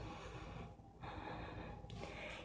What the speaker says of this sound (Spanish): Una respiración más.